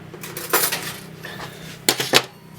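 A spoon clinks and scrapes against a dish a few times, in two short clusters of bright, close metallic taps with quiet handling between, while making apple turnovers.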